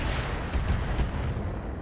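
Mech weapons fire in the BattleTech video game as a dense, continuous roar of heavy gunfire and booms, loud and sustained with no talk over it.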